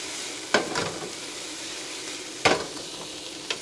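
Meat and onions fry in oil for a soup, a steady close sizzle with a few sharp stirring scrapes rising out of it, no talking.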